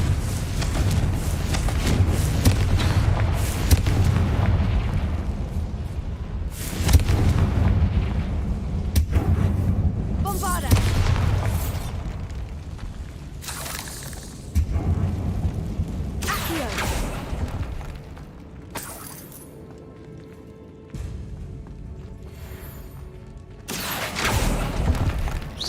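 Confringo explosion spells cast in a Harry Potter video game produce a series of deep booms and rumbling blasts, some followed by crackling debris, spaced irregularly with quieter gaps between them.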